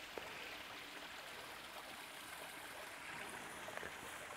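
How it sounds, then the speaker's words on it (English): A small waterfall and stream in the woods, a steady soft rush and trickle of flowing water, continuous and fairly faint at a short distance. "Sounds like there's a little waterfall of some kind over here."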